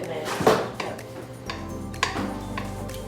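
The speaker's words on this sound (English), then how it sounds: "Just stir, and then go back and mash." Stirring, scraping and mashing in a pot of lasagna filling gives scattered metallic clinks and dull knocks at close range, with a low steady hum underneath and no talking over it.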